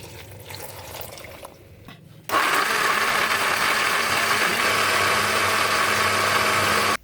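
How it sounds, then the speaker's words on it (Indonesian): A kitchen blender grinding Balinese spice paste with added water, switching on abruptly after a quieter moment and then whirring loudly and steadily at close range until it stops. "Lalu siapkan blender, masukkan bumbunya, dan tambahkan air secukupnya agar lebih"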